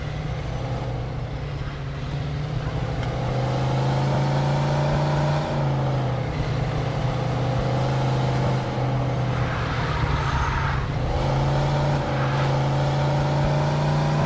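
Car driving in Mafia 2, a steady low engine drone with shifting pitch as it accelerates and eases off, continuous and fairly loud throughout, with faint background noise and no clear speech.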